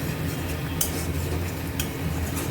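Spice masala with a little turmeric being stirred and sautéed in a pan for a vegetarian chichinga posto dish, giving steady close scraping and soft clinking under a low cooking hiss, with two brief sharp clatters.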